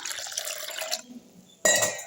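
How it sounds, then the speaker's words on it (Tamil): Water is poured onto ground coconut in a bowl to draw out coconut milk for homemade coconut oil, a close splashing pour, a short pause, then a louder second gush. "இன்னொரு முறை தண்ணி ஊற்றிக்கலாம்"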